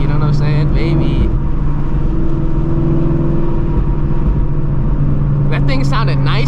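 Subaru WRX STI tuned to around 600 hp with an external wastegate, a steady loud engine drone throughout with a sharp burst of turbo and wastegate chatter near the end, recorded close up.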